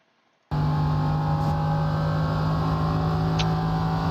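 An LMP3 race car in the iRacing simulation at Road Atlanta roars in after a brief silence, a loud, steady, high-pitched engine whine held flat at speed, no voices.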